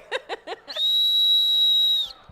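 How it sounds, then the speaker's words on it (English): A shrill personal safety whistle is blown once in a radio studio, a loud, steady piercing tone held for over a second right after brief laughter. "That's your rape whistle."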